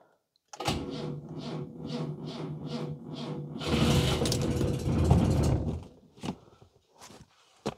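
A classic car engine cranking slowly, with rhythmic labored turnover pulses followed by a louder rougher burst. It then fades into a few isolated knocks, close and loud with no talking.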